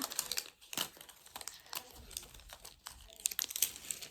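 Wrapping layers being peeled and torn off a package, with steady close crinkling and crumpling, bursts of tearing and rustle running throughout at a fairly quiet level.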